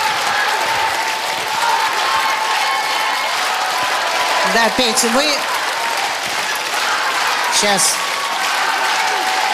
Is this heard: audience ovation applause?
yes